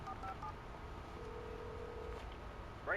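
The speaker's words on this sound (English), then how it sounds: "There's a phone." A telephone in the Alan Wake Remastered video game gives short electronic tones, faint and brief, over a low steady ambient hum.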